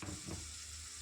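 Ground coconut paste meets sautéed ginger and garlic in a pan for a Kerala fish curry, giving a soft, steady sizzle with a faint stir, quiet and close, with no talk.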